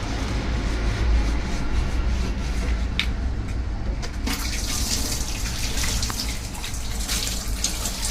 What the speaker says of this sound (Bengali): যার মধ্যে এই পাত্রগুলো রাখা হয় সেইগুলো মাজা হচ্ছে।